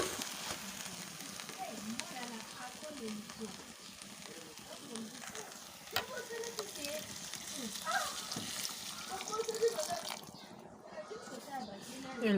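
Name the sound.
hot water added to pan of misilis fern with fish, sizzling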